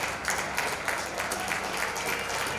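Supporters from Singapore applaud during an injury stoppage at a women's over-40 Masters World Cup match against Germany, a steady, distant patter of clapping across the whole span.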